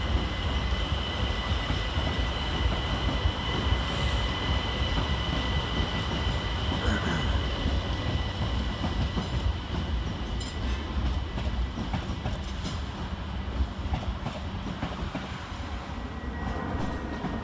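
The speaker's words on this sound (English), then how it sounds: "378139 disappears, with a 1915 London Overground service to Dalston Junction" A London Overground Class 378 electric train pulls away from Clapham Junction station with a continuous rumble and rail noise that fades as it moves off, steady throughout with no talking.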